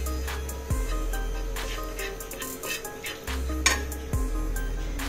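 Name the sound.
stirring butter and Kashmiri chili powder in pan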